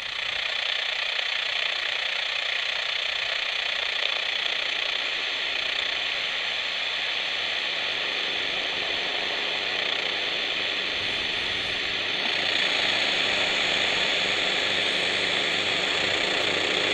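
A droning aircraft engine hums steadily throughout, growing louder near the end as the airplane passes closer.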